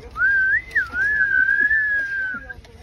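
A single sustained whistle blown through a roasted mutton bone, clear and close, wavering slightly in pitch for about two and a half seconds over quiet background.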